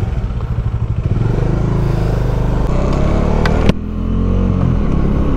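A Bajaj Dominar UG2 2024 motorcycle engine runs steadily nearby, a loud, rumbling idle with some mechanical clatter and a brief sharp knock partway through.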